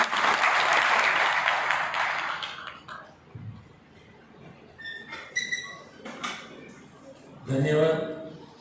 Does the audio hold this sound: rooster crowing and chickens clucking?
no